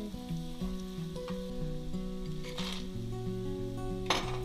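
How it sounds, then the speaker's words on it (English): Butter, diced mushrooms and a little chilli sizzle and fry steadily in a pan, with a few light clinks of a utensil stirring against the metal. "Next, chuck in a knob of butter and a couple of diced up mushrooms."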